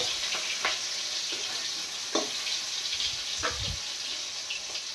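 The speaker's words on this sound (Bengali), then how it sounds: "এই আমি সব রেডি করে নিয়ে এবার মাছ ভাজা শুরু করে দিচ্ছি" Fish frying in a pan, a steady close sizzle with occasional stirring scrapes and clinks over a constant hiss.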